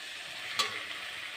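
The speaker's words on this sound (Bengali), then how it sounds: "পেঁয়াজ আর কাঁচামরিচ দিয়ে রান্না করছি" Onions and green chillies frying in a pan give a steady, close hiss with one brief sharp clatter partway through.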